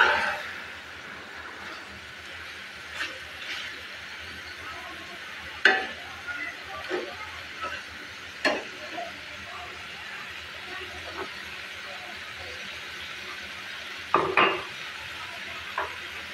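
Goat liver fries with spices in a pan, a low steady sizzle punctuated by occasional spatula scrapes and knocks spaced several seconds apart.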